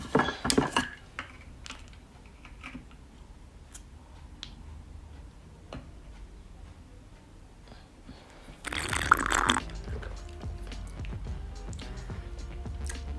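Iced caramel macchiato being stirred in a glass with ice cubes, scattered clinks and rattles of ice at first, then a louder burst of stirring and clinking with liquid sloshing, close by.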